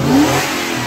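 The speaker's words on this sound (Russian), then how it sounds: "Дай газку!" A car engine in a large, roomy engine bay is blipped hard, giving a loud, close rev that peaks quickly and settles back into a steady throbbing hum.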